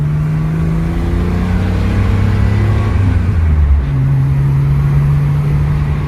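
A BMW 733i with a full-pipe exhaust pulls hard up close, its deep engine and exhaust note swelling and then settling into a steady drone as it accelerates, with no talk over it.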